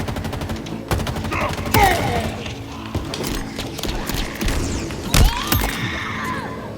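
Rapid bursts of automatic gunfire and single shots in Halo Infinite, on a mission with weapons that overheat, loud and close, mixed with impacts and game effects across the whole stretch.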